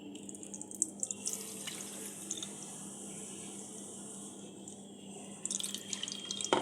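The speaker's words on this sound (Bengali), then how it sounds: "মৌরি আর মিশ্রির মিশ্রণটা আমি একটু ছেঁকে নেব।" A fennel and rock sugar mixture strained for a summer sherbet: continuous trickling, splashing liquid pouring close by, with a few sharper drips and clinks toward the end, no talk.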